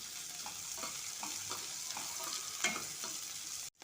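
Sliced onion and green chillies sizzle and crackle steadily in a pan of oil, with a stirring scrape now and then, cooking for chow chow bath; the frying is continuous and close, with no talk.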